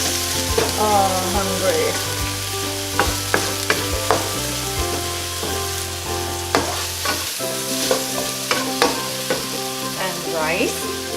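An egg frying and being stirred in a pan for chicken fried rice, a steady sizzle under repeated sharp scrapes and clacks of a utensil against the pan, with a brief spoken remark.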